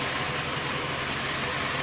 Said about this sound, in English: this has been idling the whole entire time